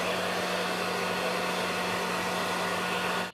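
Hair dryer blowing steadily as hair is dried, a loud, continuous close-up airy roar with a fixed motor hum that cuts off abruptly at the end.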